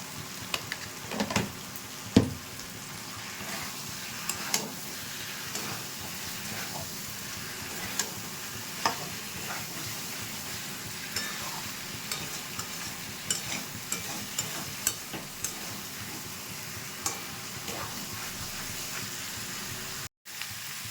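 Cauliflower tossed with spices and salt in a pan, a steady low sizzle with soft, repeated spatula scrapes and taps spaced through the whole stretch, close and fairly quiet.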